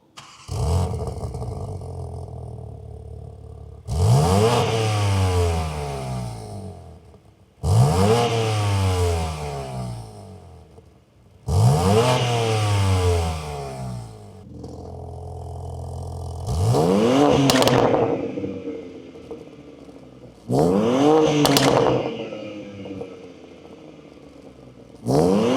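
BMW M3 Touring fitted with a Milltek OPF-back exhaust, revved repeatedly: six loud, close blips rising sharply then falling back to a rumbling idle, with some crackle between them.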